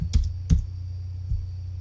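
A few soft clacking keystrokes on a computer keyboard, close and quiet, tapped at an uneven pace over a constant electrical hum, with no talking.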